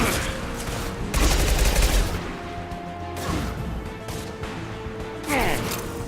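Bursts of gunfire and impacts in the sci-fi shooter Mass Effect 2, a heavy volley in the middle and another near the end over a busy combat mix with some voice beneath.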